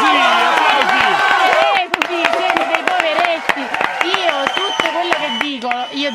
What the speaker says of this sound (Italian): Selvaggia presidente, applausi! Applausi!